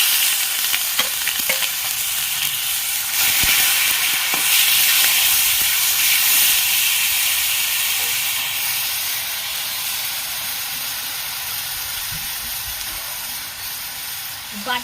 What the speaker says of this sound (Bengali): জিরে ফোড়ন দিয়ে দিচ্ছি সব মশলাগুলো আমি দিয়ে দিচ্ছি